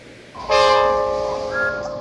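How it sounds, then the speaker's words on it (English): A locomotive whistle sounds once, loud and near, holding a steady, bright multi-toned note for over a second before fading slightly, with faint rumble underneath. "Peep, peep, here we are. Whistled Thomas."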